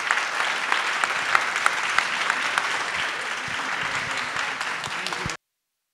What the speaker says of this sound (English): big applause to Taizo